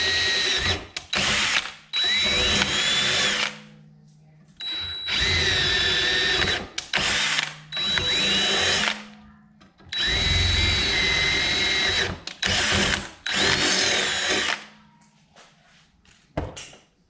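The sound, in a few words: power drill drilling holes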